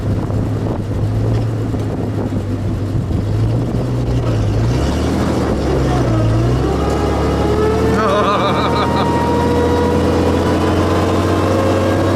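A classic military vehicle's engine pulls away in first gear, its low, loud drone rising and falling steadily under wind rumble, with faint whining tones near the end.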